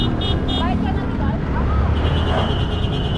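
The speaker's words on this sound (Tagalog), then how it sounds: "Daming mga sasakyan ah." Steady road traffic noise from many cars and motorcycles on a busy Tondo street, a continuous low rumble with engines passing close by, with people talking over it throughout.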